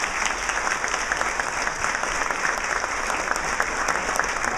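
At a New York Junior Tennis League luncheon, a banquet audience gives a sustained round of applause, with dense, even clapping that continues steadily throughout.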